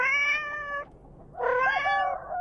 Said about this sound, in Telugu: క్యాట్ చూడండి భలే ఉందే